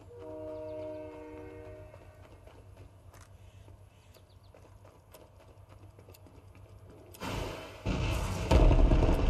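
A train in the Fortnite video game rumbles past with a sustained horn tone at the start, steady clattering rail mechanics, then a loud rushing burst of noise as it passes close by.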